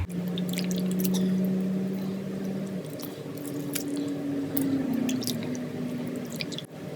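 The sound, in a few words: washing meat pieces in water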